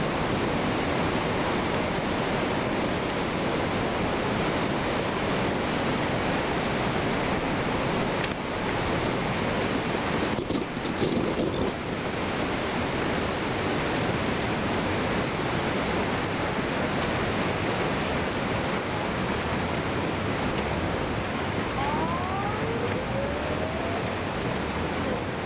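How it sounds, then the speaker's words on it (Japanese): A tsunami surges inland after an earthquake, swallowing everything in its path: a steady, loud broadband roar of rushing water and wind, continuous throughout with a brief dip in the middle and no speech. "全てのものを飲み込みながら津波が押し寄せています。"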